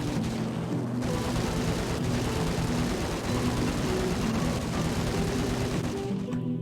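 Dense, continuous gunfire from a helicopter in the video game Max Payne, loud and unbroken with a rumbling engine-like bed beneath the rapid shots, fading slightly at the end.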